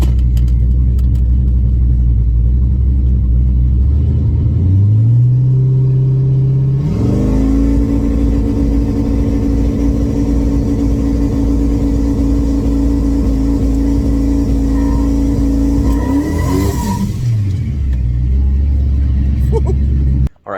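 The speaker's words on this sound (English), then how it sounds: "Might as well test the two-step." Turbocharged Camaro running around 13 psi of boost, its engine held on two-step launch control and rising into a loud, steady, pulsing rev hold before dropping away. The car is very close and sounds continuously over the whole stretch.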